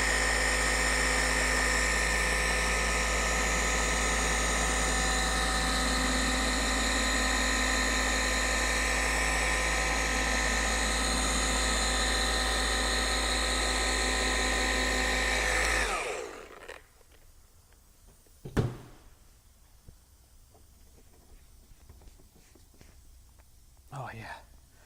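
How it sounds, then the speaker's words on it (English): A Flex XCE 8 EC forced rotation polisher hums and whines loudly and steadily on black car paint, then winds down around sixteen seconds, leaving quiet room sound with a few handling knocks. "This is the Flex XCE 8 EC polisher. Forced rotation"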